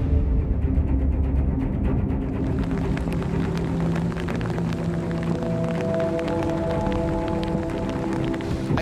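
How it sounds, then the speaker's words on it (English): Rain falling outdoors in a wilderness survival setting, a dense, steady hiss of drops with a low rumble underneath, continuous and fairly loud throughout. "all of a sudden it starts to rain"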